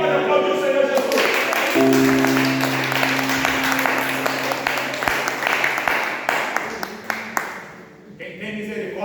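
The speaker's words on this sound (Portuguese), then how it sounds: "Quem pode aplaudir o Senhor Jesus" A church congregation applauds, a dense wash of clapping under a preacher's loud voice and sustained tones, fading gradually toward the end.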